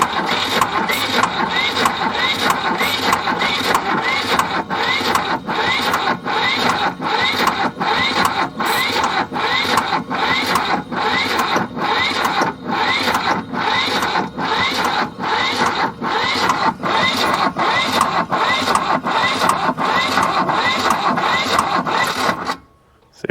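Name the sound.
diesel man-lift engine cranking over and starting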